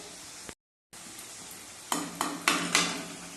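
Potatoes are added to frying spice masala and stirred in a pan. A low sizzle cuts out briefly, then comes back with four clattering scrapes of a spoon against the pan in quick succession.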